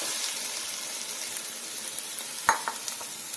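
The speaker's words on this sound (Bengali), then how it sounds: "ডালটা ঢেলে দিলাম।" Dal is poured into browned chicken frying in a pan for chicken tadka and stirred, producing a steady close sizzle with a brief louder splash and spoon scrape.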